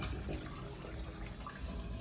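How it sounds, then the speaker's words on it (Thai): Water rushes steadily into a washing machine drum, a constant splashing flow at low volume with no voices. "อันนี้น้ำไหลแล้วนะฮะ เช็คน้ำเข้าน้ำเข้าน้ำน้ำไหลแล้ว"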